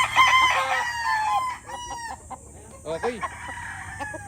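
A Python gray gamefowl rooster crows nearby, loud and drawn out, followed by a few shorter clucking calls, with a brief spoken word from a person.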